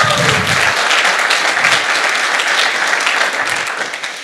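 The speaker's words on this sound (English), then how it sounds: "Give them a round of applause" Audience at a tech conference opening applauds the four event organizers, a dense, steady clapping that stays loud throughout and fades slightly toward the end.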